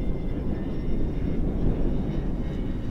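A Dynam P-61 Black Widow, a 1500mm 4S electric RC warbird, flying into the wind, giving a steady, moderately loud motor and airframe drone heard alone without variation.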